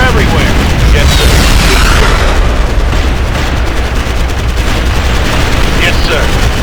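Loud, continuous battle noise from the real-time strategy game Ground Control 2: rattling gunfire and booming explosions layered over each other, with clipped soldier voice responses mixed in.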